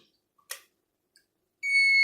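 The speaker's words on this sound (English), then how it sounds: "Once I close the CPU to the board, you will hear a buzzer." A short click, then after a pause a multimeter's continuity buzzer starts abruptly, a steady high-pitched electronic beep, loud and close, while checking a motherboard for a short circuit.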